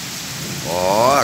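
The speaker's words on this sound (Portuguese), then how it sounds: "Ó, agora chuva forte caindo." Heavy rain hisses steadily in Porto Alegre after a lightning storm, and a brief voiced, tonal sound rises over it near the end.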